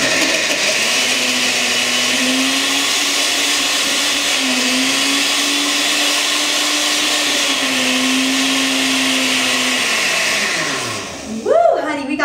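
A powerful blender whirs loudly and steadily as it blends a green smoothie, a continuous high-pitched motor roar that slows and winds down near the end.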